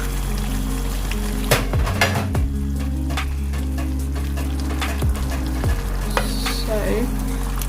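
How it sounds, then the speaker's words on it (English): Garlic naga pickle with raw mango and lime sizzles steadily in a pot while a spoon scrapes and stirs through it, with a few sharp clinks of metal against the pot rim; no talking. "Stir occasionally just to make sure it's not sticking to the bottom."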